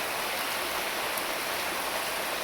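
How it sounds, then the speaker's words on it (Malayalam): Heavy rain pours down in front of a house with big trees, a dense, steady hiss that is loud and unbroken, with no voices. "നല്ല മഴയാണ് ഗായ്സ്."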